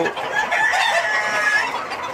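Roosters and hens on a poultry farm raising Sonali, Kadaknath and Black Australorp breeds, clucking and calling together in a loud, continuous flock chorus up close with no talk.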